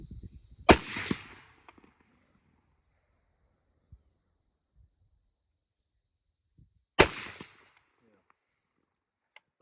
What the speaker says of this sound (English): So we're gonna take these last 2 shots, see if we can put them on the steel.